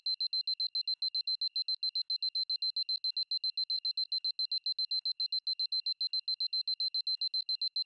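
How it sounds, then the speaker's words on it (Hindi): An alarm clock rings in a fast, unbroken string of shrill electronic beeps, steady and fairly loud, with no voices over it. "अलार्म बज रहा है।"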